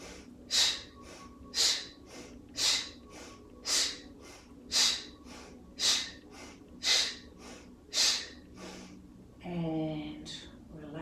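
Deep, forceful yoga breaths focused on the solar plexus repeat in an even rhythm, about ten sharp nasal exhales spaced a second apart, close and clear, followed by a brief spoken instruction.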